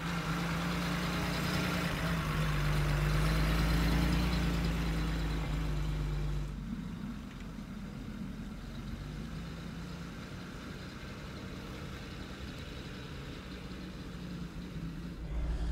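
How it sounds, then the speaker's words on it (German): A 1954 Mercedes 220 Cabriolet A drives past with a steady mid-pitched engine drone. It is louder and closer at first, then drops to a quieter, more distant hum after a few seconds. "Wir machen jetzt mal ein paar schöne Fahrszenen für euch und zeigen euch mal, was das Auto alles so kann."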